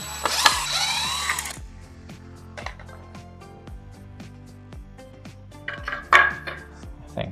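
A power tool whirs in a short burst while removing screws from a DIY table, followed by scattered clicks, ratcheting and light knocks of handling parts, close and fairly quiet.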